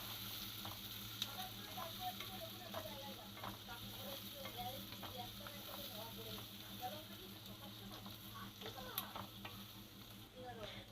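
Chopped onions fry in a pan for a pasta gravy: a constant crackling sizzle with light stirring, fairly quiet and steady throughout, with someone talking over it.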